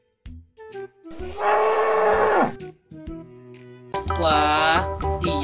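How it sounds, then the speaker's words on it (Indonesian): Water buffalo mooing in a Jurassic World Evolution 2 game, two long loud bellowing calls with background game sounds between them. "Ada satu ekor kerbau nih"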